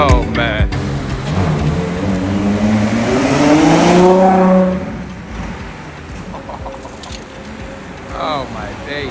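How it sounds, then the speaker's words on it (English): A Ferrari LaFerrari hypercar with a V12 engine revs nearby, a loud rising and falling engine howl that peaks then fades away, with people talking around it. "That's another very, very beautiful V12 engine right there."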